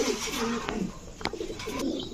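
Racing pigeons of three kinds, mili, maxi and T-checker racers, make soft low cooing calls at close range, with a few short sharp clicks and rustles between the coos.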